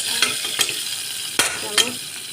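Garlic frying in a pan for a tomato tok, a steady close sizzle broken by a few sharp scraping stirs, with no one talking.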